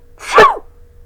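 One quick, close sneeze with a sharp burst of breath, standing alone in near silence.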